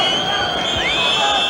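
Football crowd at a Nottingham Forest v Derby County match, a loud sustained roar and whistling near half-time, with someone talking over it.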